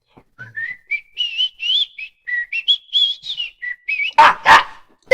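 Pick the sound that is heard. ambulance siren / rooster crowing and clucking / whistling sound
whistling sound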